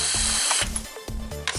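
A ratchet clicks in three quick bursts of rapid pawl chatter, close and loud, as it backs bolts out of a 3.5L V6 Chrysler engine during a coil and spark plug tune-up.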